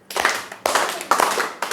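Children clapping hands in rhythm during a devotional lesson, four distinct bursts of clapping, each starting sharply and fading, close and fairly loud.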